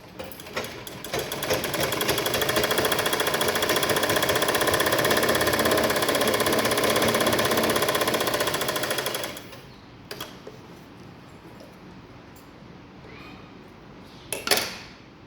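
A sewing machine stitching a cross patti blouse runs in a loud, steady rapid whir for about eight seconds, then stops. Quieter handling noises and a couple of sharp clicks follow.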